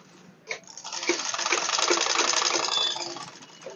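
A sewing machine stitches the hem of a pair of jeans, its motor whirring up into a loud, steady run for about two seconds before easing off, with no talking.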